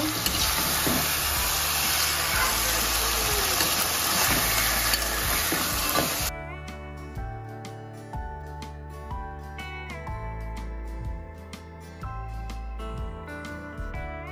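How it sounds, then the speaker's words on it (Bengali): Desi chicken pieces sizzle loudly in a hot pan while being stirred, a dense, steady crackle with scraping. After about six seconds the sizzle cuts off and background music takes over. "চিকেনগুলো দিয়ে দেব। দিয়ে ভালো করে নাড়িয়ে নেব।"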